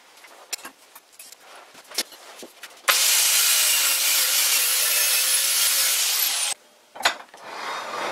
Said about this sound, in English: I'm going with the angle grinder.